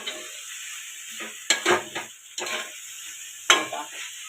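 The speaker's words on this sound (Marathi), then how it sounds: "आता 1 चम्मच आपण तेल घालूया. आणि मस्तपैकी आपण हलवूया." Fenugreek (methi) bhaji with oil in a pan is stirred with a few sharp spoon scrapes and clinks against the pan over a faint background hiss, close up, with no talking.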